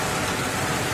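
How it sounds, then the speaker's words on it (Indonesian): Steady rain falling outdoors, a dense even hiss filling the whole moment with no voices over it. "Ini di sini maaf suaranya agak berisik karena sudah mulai hujan"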